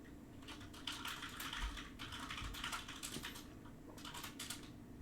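Computer keyboard typing comes in close, rapid bursts of clicky keystrokes with brief pauses between runs, and no voices.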